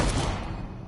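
Gunfire in the horror video game Call of Cthulhu, a dense burst of loud, close shots running together through the moment with no talk over it.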